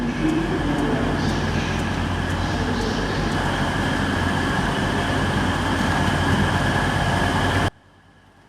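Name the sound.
EMR Class 180 train travelling from St Pancras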